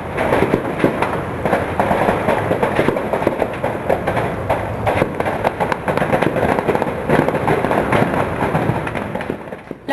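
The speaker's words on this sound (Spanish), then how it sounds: "Se oyeron algunos disparos y una columna de humo se avistó desde el exterior." Gunfire during a police raid on a small printing works in an industrial zone northeast of Paris. Dense, crackling bursts of sharp shots and bangs come in rapid irregular succession throughout, loud and continuous, with no clear speech.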